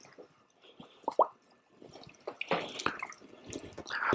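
Plaster of Paris bandage rolls dipped into water drip and splash in a series of close, uneven plops and trickles, with quieter gaps between the wetter bursts.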